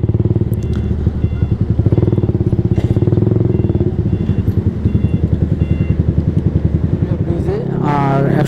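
A Yamaha R15 V3 motorcycle idles nearby with a loud, even, rapid engine pulse that stays steady, then shifts near the end as a higher whine rises.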